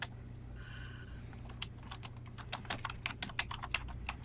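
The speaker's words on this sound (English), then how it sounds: "Sorry, I was typing" Rapid, irregular clacking of keys on a computer keyboard, close and fairly soft over a steady low hum, growing busier toward the end with no one speaking.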